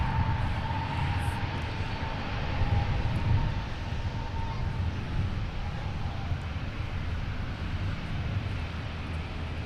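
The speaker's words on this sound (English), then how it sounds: "we get to catch the departure of the 350-900 to Seoul" An Airbus A350-900 departs for Seoul, its engines giving a steady, loud broadband roar that holds for the whole stretch, with a faint tone running through it and wind buffeting the microphone.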